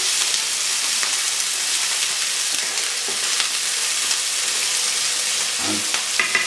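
Food fries in a pan while being stirred around: a loud, dense sizzle with intermittent spoon scrapes and a couple of knocks near the end, with no voices.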